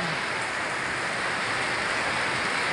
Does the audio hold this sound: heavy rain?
yes